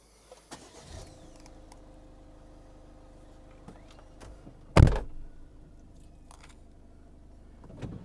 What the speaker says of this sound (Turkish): Şimdi arabayı çalıştırayım.